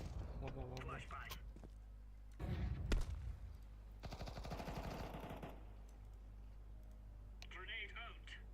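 Counter-Strike match with a flashbang and gunfire: bursts of rapid shots and sharp bangs arrive in clusters between quieter gaps, with game sounds and short ringing tones around them.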